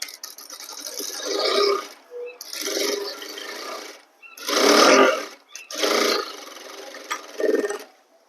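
An electric sewing machine stitches a suit in bursts of one to two seconds, each loud run of whirring and chattering stitches broken by short pauses as the fabric is repositioned, close by with no talking.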